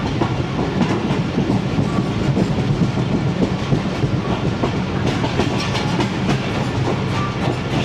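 A train passes through Shahdara Bagh junction near Lahore, Pakistan, with a loud, continuous rumble and steady clickety-clack of wheels on the rails close by, and no voices.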